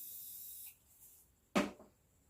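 Sweet Grace Baking Spray, a setting spray misted onto a Beauty Bakery makeup sponge: a faint steady hiss, then a pause and one short, sharp, close burst of spray.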